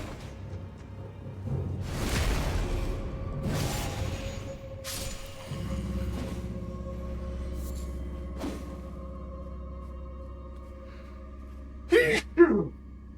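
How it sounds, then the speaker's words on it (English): A person sneezes during a session of the Elden Ring video game, several sharp bursts early on followed by a steady hum, with a final close, loud sneeze near the end. "you ever sneeze and your whole chest just feels like it's gonna pop out of your body?"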